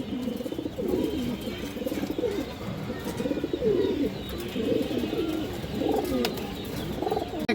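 Pigeons, including a black Mushaldom hen, coo repeatedly in low, throaty rolling calls, several birds overlapping in a steady, close chorus with faint background noise.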